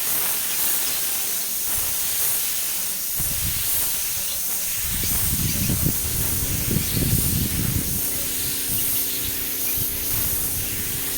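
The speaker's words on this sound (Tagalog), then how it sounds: "ito yung atin, i-spray na natin ito." Aerosol spray paint hisses onto a PVC pipe in a steady, close stream, with the texture shifting as the can moves, and a few soft handling knocks partway through.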